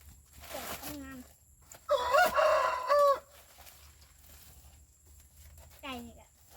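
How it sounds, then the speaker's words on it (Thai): A rooster crows once, loud and fairly close, a drawn-out strained call lasting about a second, with brief bird calls before and after and a quiet outdoor background. "ไก่นี่ก็เอาเลยเนาะ"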